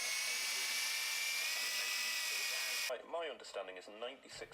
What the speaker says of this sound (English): So I chucked up the plugs in my drill and sanded them down to size.